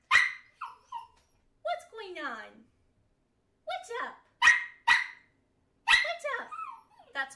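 A pet dog barks and yips in short bursts, close by and loud. A person talks briefly between the barks.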